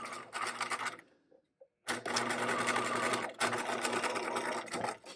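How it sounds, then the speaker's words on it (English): A sewing machine stitches and back stitches a plain seam through fabric, running in steady whirring bursts broken by a brief pause near the start and a short stop later, loud and close with no talk. "I'm going to just stitch, back stitch, and sew a plain regular seam along this line"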